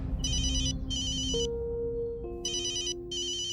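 A phone rings in repeated electronic trilling bursts, with a steady tone and background hum between rings, no voices.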